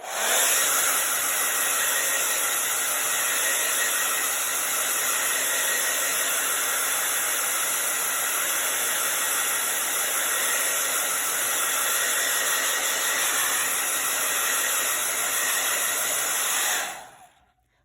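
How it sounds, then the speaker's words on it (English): A handheld blow dryer runs steadily at close range for about seventeen seconds, drying paint on a winter fox painting, a constant loud airy roar with a high whine, then cuts off abruptly near the end. "I'm gonna use the blow dryer to speed things up."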